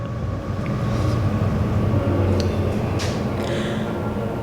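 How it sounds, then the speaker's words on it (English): A train passes nearby with a continuous low rumble and roar that stays loud and steady, heavy low-end drone with some faint rattling above it. "That's the train again."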